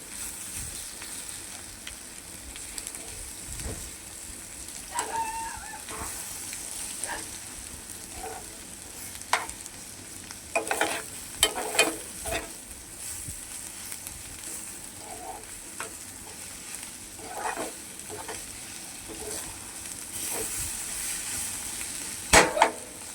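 An egg fry cooking in a pan with masala, sizzling steadily while a utensil scrapes and stirs it now and then; the frying hiss stays constant and close, with scattered louder scraping strokes.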